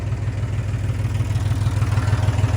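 A tractor engine idles steadily close by, a low throbbing pulse with a faint clatter running evenly throughout, with no voices over it.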